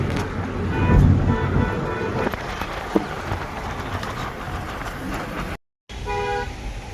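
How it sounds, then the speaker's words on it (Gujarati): Car horns honk repeatedly amid steady road-traffic rumble while stopped in traffic in Gujarat, loud and close, with a brief dropout near the end. "ટ્રાફિક ઉભા છીએ"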